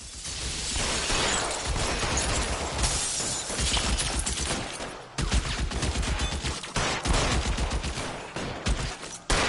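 Loud, rapid gunshots from an L.A. Noire shootout crack through a dense barrage, with overlapping bursts and shattering impacts that pause briefly midway before the firing picks up again.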